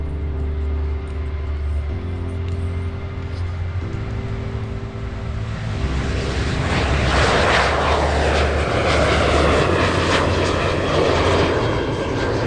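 A Boeing C-40C military jet, a 737-700 variant, roars past at an airshow, a loud sustained engine rumble that swells into a broad rushing whine as it passes close overhead.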